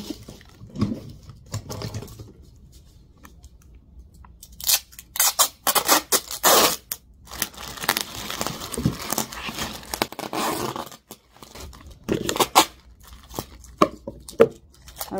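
Packing tape pulled and pressed onto an eBay shipping package, with loud ripping and crackling bursts and rustling handling noise in the middle stretch, close by with quieter gaps around it.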